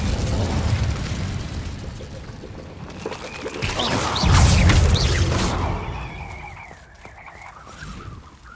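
The Incendio fire spell cast in Hogwarts Legacy, a loud whooshing burst of flame that swells to a roaring peak midway, then fades into crackling and a lingering magical shimmer.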